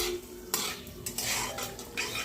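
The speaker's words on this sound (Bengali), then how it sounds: "এবার আমি এর মধ্যে আলুটা দিয়ে দেবো।" A metal spoon scrapes and stirs potatoes into spices frying in a pan, giving several clinking strokes over a low, steady sizzle, close and alone.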